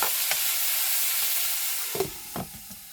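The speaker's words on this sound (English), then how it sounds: "So I'm going to give these potatoes a quick stir now that they've been cooking for a few minutes." Potatoes fry in a pan with a loud, steady hiss of sizzling oil, then a spatula scrapes and turns them near the end, with a few soft knocks and shuffling sounds.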